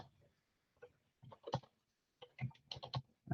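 Keystrokes on a computer keyboard come in short irregular bursts of clicky taps at close range, separated by brief pauses in a quiet room.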